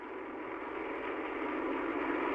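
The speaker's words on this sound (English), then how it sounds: "he performed a spectrographic analysis of what were assumed to be the engine sounds of the motorcycle moving along the motorcade" Motorcycle engine on the JFK motorcade police recording: a steady, unbroken band of droning engine noise holds at an even level throughout, dense and without pauses.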